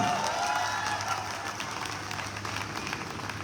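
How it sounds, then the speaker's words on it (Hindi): A large audience at a company event applauds, producing a continuous wash of clapping heard from a distance, fairly soft and steady with a low hum underneath. "एक बार जोरदार तालियां"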